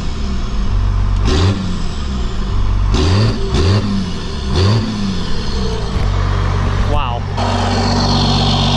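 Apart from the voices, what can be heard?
Cummins 12-valve diesel truck engine revving, mini smoke stack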